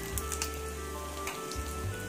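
Bread slices toast in ghee in a pan for double ka meetha, giving a soft, steady sizzle with faint crackles under a low background hum.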